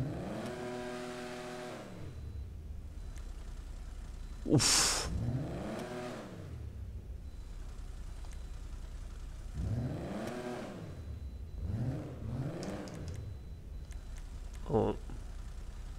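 Engine revving of a Nissan 300ZX fitted with a custom exhaust in GTA Online, sharp throttle blips rising and falling in several short bursts, with someone talking over the engine.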